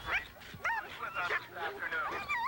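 A sled dog at the start of the John Beargrease Sled Dog Marathon yips, whines and gives short excited barks in quick, high-pitched bursts, close to the microphone.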